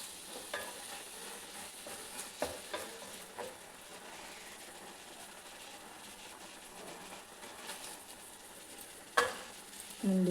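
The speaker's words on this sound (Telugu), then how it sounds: "ఒక 2 minutes మనం లిడ్ క్లోజ్ చేసుకొని ఆ రొయ్యలు ఆ మసాలా అంతా బాగా ఆయిల్లో కుక్ అయ్యేలాగా పెట్టుకుందాం" Prawns frying with masala in oil in a lidded pan, a steady soft sizzle with occasional clinks and scrapes, faint and continuous with no voices.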